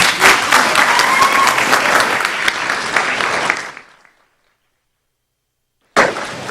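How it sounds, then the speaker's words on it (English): An audience at a district school board meeting applauds the district Parent of the Year, a loud, dense burst of clapping for about four seconds that cuts to silence before a voice resumes. "Let's give her another round of applause."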